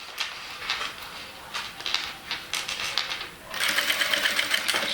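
A sewing machine stitches bias binding onto a Bible cover, its rapid mechanical ticking running in short bursts, then speeding into a steady, louder run near the end, close and alone.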